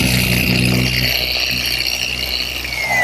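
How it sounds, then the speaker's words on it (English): A power sander working the corners of walnut table leaves, a loud continuous motor whine with a high buzzing tone and rough abrasive grinding, close up and uninterrupted. "I'm just rounding the corners of the leaves, just using a sander"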